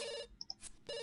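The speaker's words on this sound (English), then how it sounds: "Can you just answer your phone, please?" A phone ringing inside The Sims 2, repeated electronic chirping rings that start, pause briefly with a couple of short blips, then resume, close and clear with no talking.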